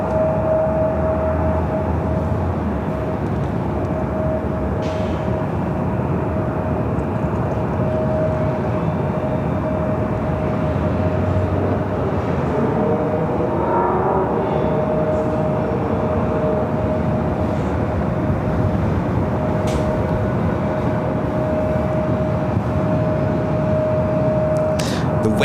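Loud, steady roar of a SkyWest United Express Embraer E175 jet at Los Angeles International Airport, a sustained broadband rumble with a faint whine that holds the whole time.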